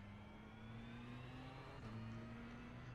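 Ferrari GT3 race car in the iRacing simulator at Motorland Aragon, engine note rising steadily through the gears with a brief dip at a shift, a continuous high, whining drone heard alone at low volume.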